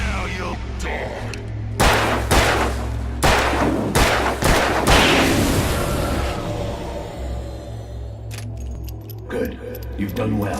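Gunshots from a handgun in the Alan Wake video game, several sharp close blasts fired in quick succession and trailing into echoing reverb, with spoken dialogue around the shots.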